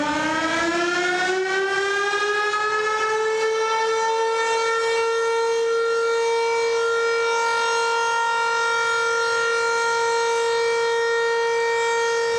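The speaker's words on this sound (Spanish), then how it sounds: "El toque de sirena que acabamos de escuchar se ha replicado en absolutamente todas las sedes bomberiles del país." A fire station siren sounding during a volunteer firefighters' protest in Argentina, a loud sustained wail that rises at the start and then holds a steady tone for over ten seconds, alone.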